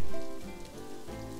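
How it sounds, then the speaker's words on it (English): Steady rainfall in the Planet Zoo video game, a continuous hiss of rain on surfaces with soft pattering drops, even and fairly close, heard on its own. "I know, it's raining."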